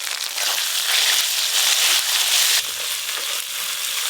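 Ginger-cumin paste with salt and turmeric fries in a hot pan, giving a loud, steady sizzle that sounds close up and continues with no voices.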